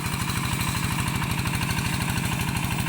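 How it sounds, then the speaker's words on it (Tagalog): A large farm machine's engine runs loudly and close in a field, a steady, fast, throbbing drone with a rhythmic low pulse, heard alone. "Sa laki ng makina, sa lakas ng makina"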